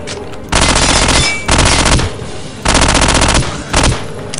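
Machine gun fire from the video game Soldier of Fortune 2: Double Helix comes in four loud, rapid bursts separated by short gaps.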